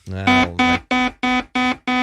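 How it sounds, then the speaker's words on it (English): A loud electronic warning alert buzzer on a live morning show blares in six evenly spaced, sharp pulses, each a harsh tone lasting about a quarter second. "That's the warning alert buzzer, ladies and gentlemen."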